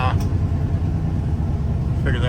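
A car engine idles slightly high with a steady, close, low rumble that holds for a couple of seconds, and brief voices sound at the start and end.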